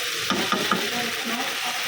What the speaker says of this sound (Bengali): এই যে মিষ্টি আলু বাগা দিচ্ছি বেশি করে পেঁয়াজ রসুন দিয়ে